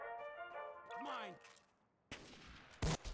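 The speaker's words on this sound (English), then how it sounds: "The blast release of that gun killed you." Gun blast: a short burst of static-like noise ends in a loud, close, sharp crack near the end. A voice and tonal game sounds come first.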